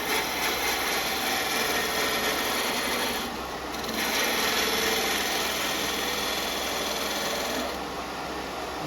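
A wood lathe tool takes a peeling cut on a spinning furniture component for duplicating antique pieces, a steady, close, dense shaving hiss over the machine's hum, easing briefly twice before resuming.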